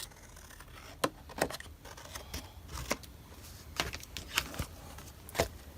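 Scissors snipping through paper card for handmade card making, a series of sharp, separate cuts spaced irregularly, close and fairly quiet with no talking.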